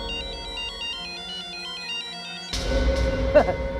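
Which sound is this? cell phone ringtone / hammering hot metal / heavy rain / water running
cell phone ringtone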